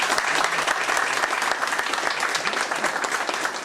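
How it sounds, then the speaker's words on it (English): Loud, dense applause from a live audience at a Doctor Who fan event at the Cavern, continuous clapping close and full with no voices over it. "Can I have a round of applause?"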